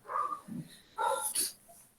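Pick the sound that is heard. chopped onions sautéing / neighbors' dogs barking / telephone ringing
neighbors' dogs barking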